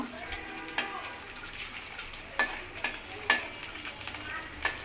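Pakoras made from small portions of batter frying in hot oil, giving a soft continuous sizzle with scattered pops and the occasional clink of a utensil, fairly quiet throughout.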